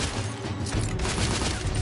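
Heavy gunfire in The Order: 1886, a dense, continuous roar of overlapping shots and battle noise that stays loud and unbroken throughout.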